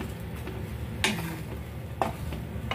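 A Filipino okra omelette (tortang okra) fries in a little canola oil, giving a soft, steady sizzle broken by two brief utensil clinks or scrapes in the pan.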